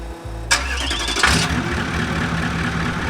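A Holden HQ car engine cranks and catches, then settles into a steady, loud idle nearby, filling the whole clip after the start.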